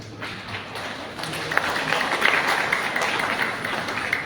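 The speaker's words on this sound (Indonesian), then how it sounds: "Terima kasih atas tepuk tangan" Applause from the audience at a church synod session in Sabu Raijua, starting softer and swelling into dense, steady clapping with scattered sharper claps, heard from within the hall.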